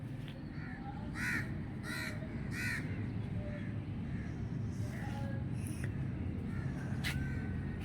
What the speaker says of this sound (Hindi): कौवे उड़ रहे हैं।